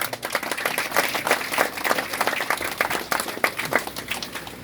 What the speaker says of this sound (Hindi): एक बार इस बात के लिए बहुत जोरदार तालियां होनी चाहिए।